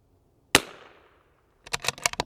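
A rifle shot fired through a Bushnell Match Pro ED scope at a shooting range: one sharp loud crack with a decaying tail, then a quick cluster of rapid clicks and rattles about a second later.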